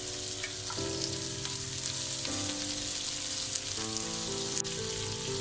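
Sliced onion and green chillies fry steadily in hot oil for a potato poori masala, a constant dense sizzle with faint crackles throughout, close and alone without voices.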